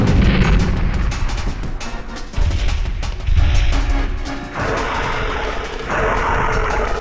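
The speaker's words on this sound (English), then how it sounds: "I didn't realize there was a cannon up here." A cannon fires repeatedly in the video game Dino Crisis 2, heavy booming blasts landing at irregular intervals over a dense background of rumbling action and game noise, with no voices.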